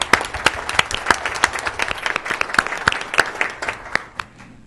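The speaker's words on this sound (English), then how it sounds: "Let's give the entire commission a round of applause." Applause at a city council meeting for the commission, a moderate room full of steady hand clapping that tapers off at the end.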